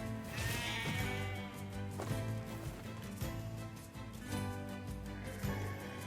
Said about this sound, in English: Are these the sheep that if you piss them off too much, they'll attack?